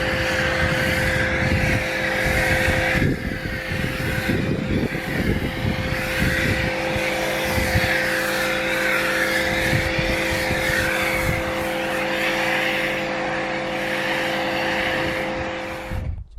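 Snow foam sprayed onto a dry car, a steady broad hiss with a constant mechanical drone underneath running the whole time, continuous and fairly close with no talking.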